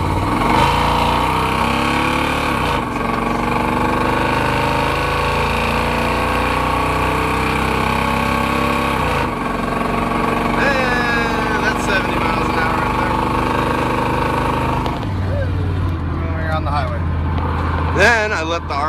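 A pickup truck engine idles and revs loudly up close, its pitch rising and falling with shifts in speed and a deeper rumble near the end.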